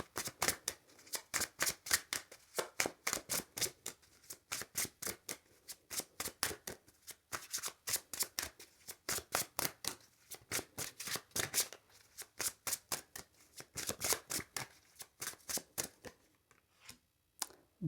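Tarot cards are shuffled and drawn close by, a long run of quick, crisp riffling flicks in a steady rhythm that ends in a few looser slides, with no talking over it.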